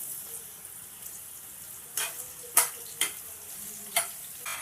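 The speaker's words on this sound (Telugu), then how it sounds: "ఇప్పుడు ఈ మష్రూమ్స్ ఈ నూనెలో వేసి కొంచెం వేపుకుందామండి" Mushrooms fry in oil in a pan for a masala curry, a faint steady sizzle broken by several crisp scraping stirs in the second half.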